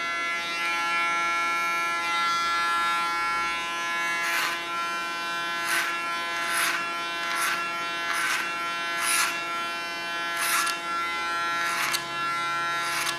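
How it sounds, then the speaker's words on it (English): Electric hair clipper buzzing steadily close by during a clipper-over-comb haircut, with repeated short bursts of cutting as it passes through the hair, no voices. "Using a clipper over comb technique because then I can control what I take off."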